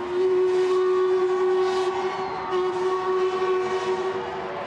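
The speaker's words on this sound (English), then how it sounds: "The Prince Elizabeth steam train blew her horn from the Chelsea River Bridge as she went." Steam locomotive Prince Elizabeth sounds a long, steady whistle from a bridge over the River Thames at Chelsea, one loud sustained tone held for several seconds over open outdoor ambience.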